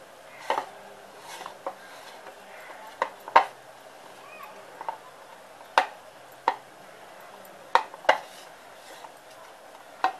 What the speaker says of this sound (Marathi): इथे आपण आता ह्या पिठाचं असाच हळूहळू मिक्स करून त्याचा गोळा तयार करायचे